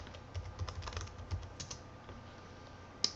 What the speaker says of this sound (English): you type in your username and your password